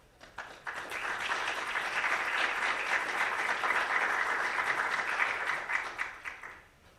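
An audience at a neuroimaging lecture breaks into steady, sustained applause that swells quickly, holds for several seconds, then tapers off. No voices are heard.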